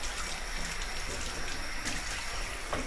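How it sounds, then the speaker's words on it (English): Parts of a Bialetti Moka Express 6-cup stovetop coffee maker are rinsed under running water, a close, steady splashing stream from a tap that keeps going without pause. "So give that a rinse."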